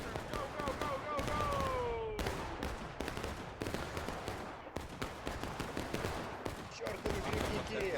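Rapid bursts of gunfire from a video game battle between infantry units, with close-quarters troops running up and firing shots; dense, continuous popping volleys with a few sharper cracks layered over a busy background.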